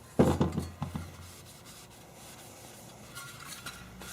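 A rag is rubbed over the valve cover of a Kohler Courage engine to clean off oily residue, making a few close, firm scuffing strokes at first, followed by quieter, softer rubbing.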